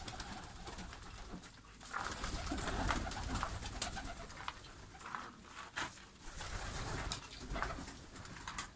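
Young Hünkari fancy pigeons cooing in a loft, repeated soft throaty coos close by, mixed with fluttering and rustling among the birds.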